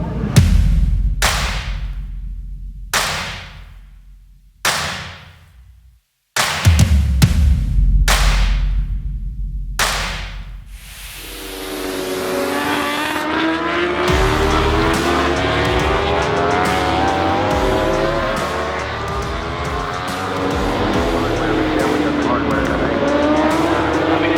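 A BMW S1000RR superbike heading out onto the track at Laguna Seca for a practice session, engine blipping in sharp revving bursts before settling into a loud sustained howl as it pulls away.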